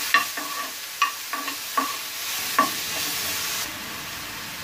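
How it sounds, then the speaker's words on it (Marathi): Ridge gourd seeds sautéing in a pan for chutney, with a steady background sizzle punctuated by several sharp clicks and scrapes of a spoon stirring against the pan, which then fades to quieter frying. "बिया पण चांगला परतून घ्यायच्या।"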